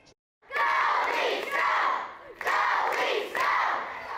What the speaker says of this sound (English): the entire school got involved with the playoff spirit, cheering on our two playoff teams